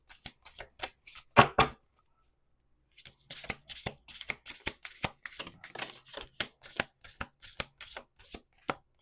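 A deck of oracle cards is shuffled by hand on a table, giving a rapid run of crisp riffling slaps and flutters, close and clear, with a brief pause before the shuffling resumes.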